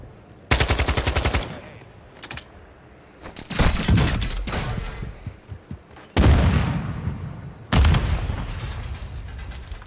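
Warzone video game gunfire: loud automatic bursts of rapid shots, some with heavy booming impacts, arrive in several separate volleys with quieter stretches between them.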